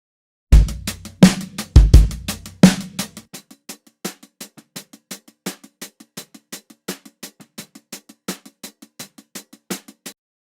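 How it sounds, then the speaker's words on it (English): Clanky, dusty, tape-saturated hi-hats ticking a steady 16th-note groove for a pop song mix, starting with a few heavier drum hits before thinning to crisp evenly spaced hats alone. "the hi-hats are like this like 16th note kind of groove"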